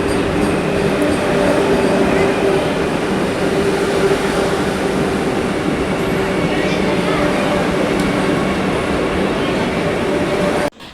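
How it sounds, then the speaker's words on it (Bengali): A Vande Bharat train at a station rumbles loudly and continuously, with a broad mechanical roar and faint wheel and rail noise, plus a murmur of voices in the background. "তো স্টেশনে বন্দে ভারতের দর্শন পেলাম,"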